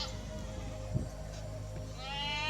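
Mountain goats bleat in a wavering, drawn-out call, with a second rising bleat near the end over a soft, steady background.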